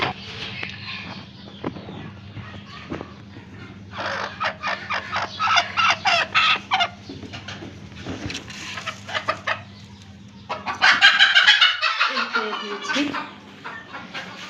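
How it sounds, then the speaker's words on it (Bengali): A hen clucks repeatedly while searching for a spot to lay her eggs, the calls close and fairly loud, rising into a louder burst of clucking near the end over a steady low hum. "আর এই যে সাদা সুন্দরী ডিম পাড়বে, ডিম পাড়ার জন্য ও জায়গা খুঁজছে আর কি।"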